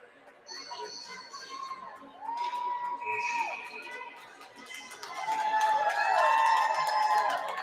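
Parents in the stands at a 10U squirt youth hockey game, scattered shouts and whoops rising over a murmur of chatter and swelling into a louder burst of cheering toward the end, heard at moderate distance.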